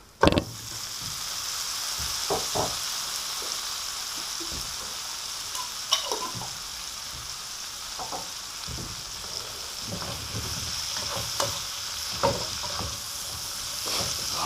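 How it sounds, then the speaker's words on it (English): Shrimp frying in bacon grease in a pan, giving a steady close sizzle with scattered crackles and pops, alone with no talk. "Now, while we're cooking the shrimp"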